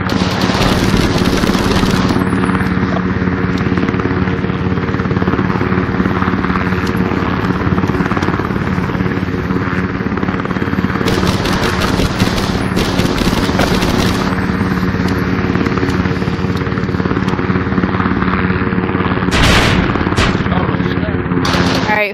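Rapid machine-gun fire from two helicopters in a virtual reality shooting game, loud and continuous over a steady rotor drone, with dense bursts throughout and a sharper volley near the end.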